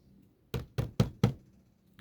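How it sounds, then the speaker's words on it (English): Four firm knocks on a wooden door, evenly spaced and close, loud against a quiet background, used as a sound effect. "Then came the knock on the door."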